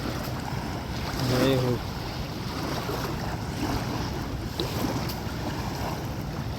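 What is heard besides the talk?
river waves lapping on the Narmada shore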